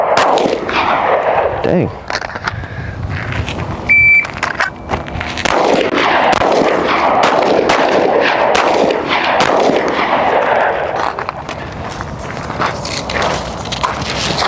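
Gunshots from live rounds fired at an outdoor shooting range, sharp repeated reports in quick strings through most of the stretch, loud and close, with a brief spoken exclamation among them.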